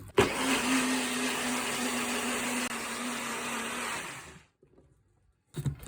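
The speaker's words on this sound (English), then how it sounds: "Then I'm going to blend it up." A NutriBullet blender whirs loudly and steadily for about four seconds, then cuts off into near silence before a brief clatter at the end.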